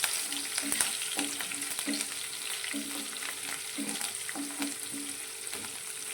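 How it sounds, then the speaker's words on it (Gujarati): Green chilies, sesame seeds and cumin fry in hot oil with a constant close sizzle, broken by regular scraping strokes of a spoon stirring the pan. "તો આપણા મરચાં અને તલ જીરું સારીથી સંતરાઈ ગયા છે"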